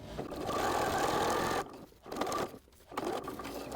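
Sewing machine stitching around the perimeter of a Velcro strip on a seat belt cover, a close continuous run with brief slowdowns near the end.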